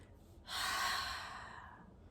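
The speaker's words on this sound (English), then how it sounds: "So exhale everything out of your mouth." A single forceful breath pushed out through the mouth during a breathing exercise, a broad airy rush that starts abruptly after a short pause and fades slowly over a second and a half, close and alone.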